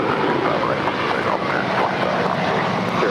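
An American airliner's engines roar steadily and close during a takeoff roll on runway 25 right at Los Angeles International Airport, a dense continuous rumble with no pauses and no talk.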